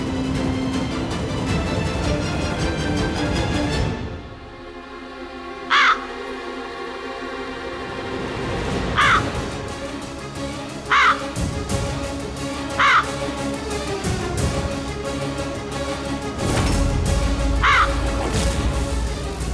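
Crows caw loudly near an outdoor offering of prasad, with several sharp, separate calls spaced a few seconds apart over a busy background hum, and no talking.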